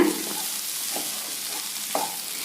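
A green banana bonda mixture being turned over in a pan, with soft scraping stirs at a slow rhythm over a faint steady sizzle, close and fairly quiet.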